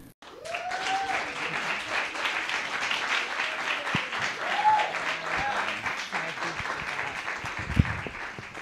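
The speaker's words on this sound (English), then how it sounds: "I greatly appreciate your applause." An audience applauds to welcome a speaker at a women's advocacy and leadership event, steady dense clapping that fills the room for several seconds, with a few faint voices and whistles mixed in.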